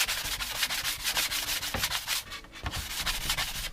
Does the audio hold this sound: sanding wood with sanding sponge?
yes